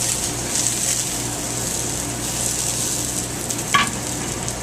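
Spaetzle frying in butter in a hot pan, a loud, steady close sizzle with a brief scrape of a utensil near the end.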